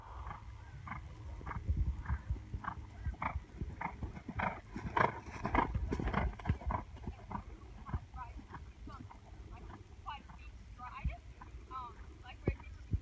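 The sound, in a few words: horse cantering in arena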